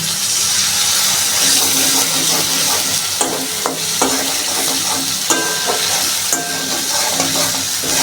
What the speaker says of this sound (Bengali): দেখো মশলাটা আমি একটু কষিয়ে নিয়েছি এর মধ্যে এখন অ্যাড করবো টক দই